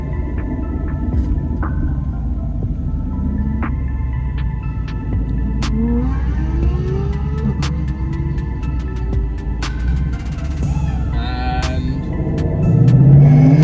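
Ford Mustang and an Aston Martin accelerating hard on an airfield drag strip, a steady low engine rumble with rising revs building over several seconds, growing louder near the end.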